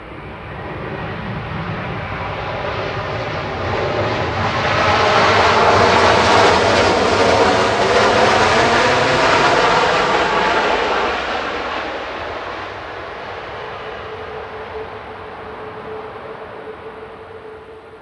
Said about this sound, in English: Again, performing a bit of aero braking